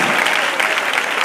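Strong, sustained applause from a church congregation during a sermon, a loud continuous roar of many hands clapping together.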